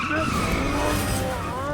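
Tires squealing as a car skids, a loud sustained screech with wavering pitch over engine roar, a voice briefly audible underneath.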